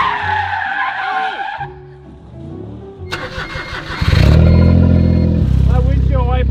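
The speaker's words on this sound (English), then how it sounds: "drift his Jeep" A Jeep drifts across snow, its engine revving and surging loud and close, rising to a sustained roar with tyre slip, while people talk over the noise inside the vehicle.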